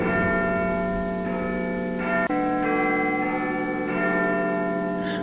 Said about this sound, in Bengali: ঠিক সেই সময় টালিগঞ্জ থানা থেকে ঢং ঢং করে মধ্যরাত্রি ঘোষণা করল